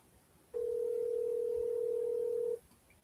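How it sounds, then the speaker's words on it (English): A telephone rings during a prank phone call as a single steady electronic ring tone, holding for about two seconds before cutting off, clear and alone with no voices. "I'm prank phone calling you live on YouTube"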